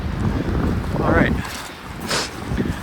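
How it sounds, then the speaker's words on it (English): Strong winter wind gusts over snowy, frozen swampland during heavy snowfall, buffeting the microphone in rough bursts while someone talks over it. "That's windy and miserable."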